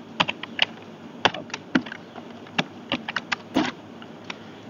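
Someone typing code on a computer keyboard, close and alone: irregular bursts of crisp key clicks with short pauses between them.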